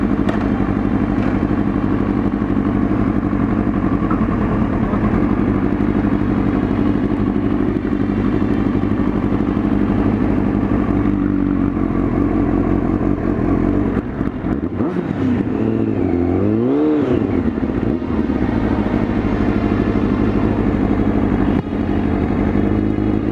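A motorcycle idling close by with a loud, steady mechanical chug, then a rise in engine note as it pulls away on idle alone, with light clatter and no speech.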